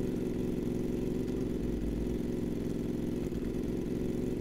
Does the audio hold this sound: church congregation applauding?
no